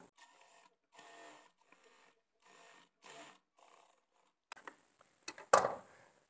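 A sewing machine stitches blouse fabric in several faint, short runs separated by quiet pauses, ending with a few sharper mechanical clicks and a louder burst.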